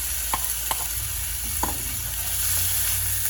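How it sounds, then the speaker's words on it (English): Lentils and brown rice sizzling in a skillet with onions and garlic, a steady close frying hiss with a few soft clicks of stirring. "We're going to stir that together with the onions and garlic"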